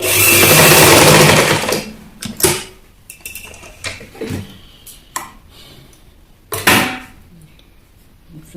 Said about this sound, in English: So top stitch to the other side.